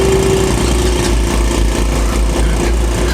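An old man's motorcycle idles fast and high on a crowded ferry deck at Djerba, Tunisia, giving a continuous, steady buzzing engine drone that runs close and loud with no talk over it.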